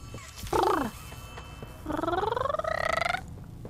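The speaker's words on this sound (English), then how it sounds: "Is that a phone ringing or is it?" A telephone rings in the video game Poppy Playtime Chapter 3: two bursts of warbling, stacked electronic tones, a short one then a longer rising trill, like a synthetic ringtone over a quiet background hum.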